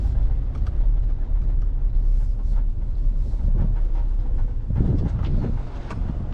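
A Honda CR-V RD1 with a worn sway bar knocks and clunks over bumps while driving, the dull thuds sitting under constant road rumble and wind noise.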